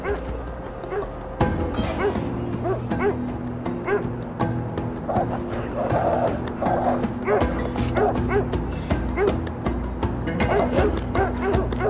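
Dogs in the fantasy video game Of Orcs and Men bark, yip and whimper in quick repeated bursts, fairly close and loud over a low droning backdrop, with occasional voices mixed in.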